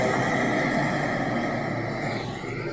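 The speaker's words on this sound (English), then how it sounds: "That's the sound of the ram air turbine." Air India airplane's deployed ram air turbine caught in an eyewitness recording, a loud, continuous, rough whirring roar that holds steady and eases slightly toward the end, with no voices.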